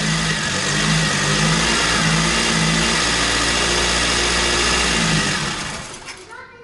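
A car engine on a derby project car runs steadily at a loud, close idle with rising revs, then winds down and cuts off near the end; voices can be heard faintly.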